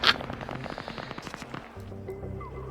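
Sharp bursts of gunfire crack out in an Arma 3 esports match, a quick cluster of close shots at first, then a rattle of rapid rounds that fades into quieter shooting.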